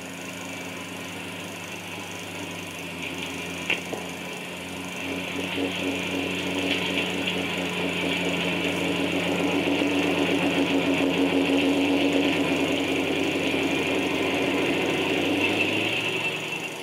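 Tank engine noise, a continuous mechanical rumble with rattling, clanking tracks that gradually grows louder as the tanks draw nearer, heard alone without talk.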